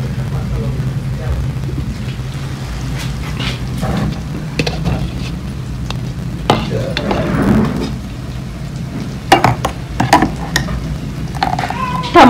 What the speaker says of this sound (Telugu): ఇందులోనే తాలింపు వేసేస్తున్నాను